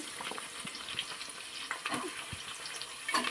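Curry leaves, mint, coriander and onion frying in a pan for vegetable pulao, giving a soft continuous sizzle with light stirring clatter close by, no talking.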